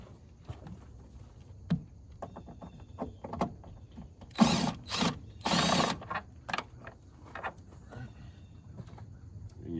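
A bolt being unscrewed on an Audi A4 gives quick ratcheting clicks and a couple of short mechanical whirring bursts, moderately close amid faint handling noise.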